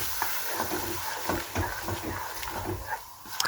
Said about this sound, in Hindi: चने शामिल करके हमने 2 से 3 मिनट के लिए इनको भून लेना है